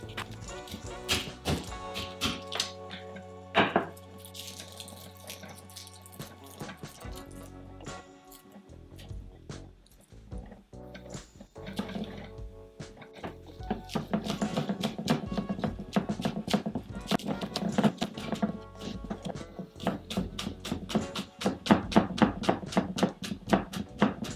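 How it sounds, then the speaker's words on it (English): Knife chopping garlic, chili and scallions on a board while making crispy Asian sesame chicken: scattered close taps at first, then a fast, steady run of sharp chops toward the end, with no talk. "Now we start by chopping up the garlic, a little bit of chili and few scallions."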